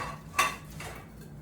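A cooking pot is handled in a home kitchen while making birria, with one sharp metallic clank followed by softer scraping and clatter, close and fairly quiet.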